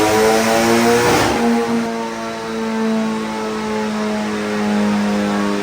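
Honda K20C engine in a Lamborghini Super Trofeo-based build revving hard on a dyno, a loud sustained high-pitched engine note with a brief surge near the start, holding steady throughout with no talk.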